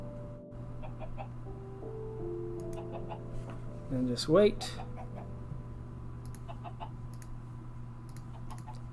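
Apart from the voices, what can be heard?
chickens clucking in Minecraft Stoneblock modpack video game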